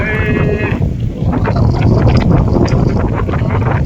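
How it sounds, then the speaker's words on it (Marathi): Strong wind roars steadily and loudly into the microphone, a constant rumbling buffet, with a brief voice at the very start. "वारं सुटलंय मरणाचं"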